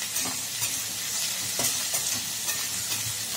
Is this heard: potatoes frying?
yes